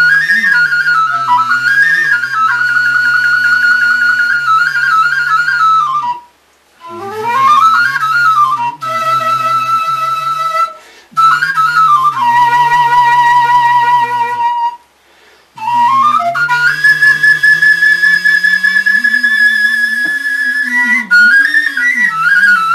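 A bright, breathy Romanian shepherd's flute plays a long ornamented doina with sliding, wavering notes and a low drone beneath, pausing briefly between phrases, in Maramureș.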